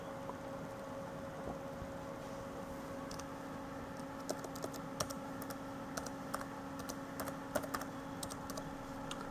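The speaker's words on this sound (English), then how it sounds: "Have to actually enter the password on that one." Keys are typed on an iBook G4 laptop keyboard to enter a password: soft, quiet, scattered clicks in irregular bursts over a steady low electrical hum, with no voices.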